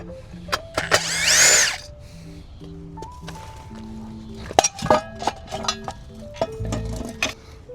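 A power drill backs screws out of a LiftMaster LA500 gate opener arm, giving short bursts of motor whir separated by pauses and metallic clinks and taps of parts being handled, close by.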